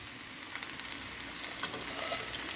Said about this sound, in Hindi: Fry potatoes.